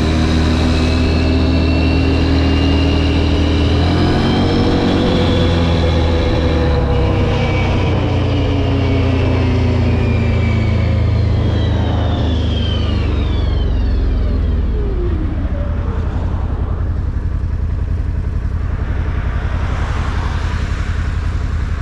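An Odes 1000 riding on asphalt gives a loud, continuous engine roar close by, its pitch climbing and sinking as the throttle changes, with steady wind and road noise and no talking.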